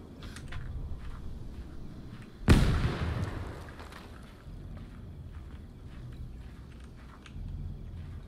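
A frag grenade detonates in Arma 3 with a single sharp, loud blast that trails into a rumbling decay, set against steady low ambient wind and faint footsteps before and after.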